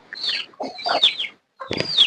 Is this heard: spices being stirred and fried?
no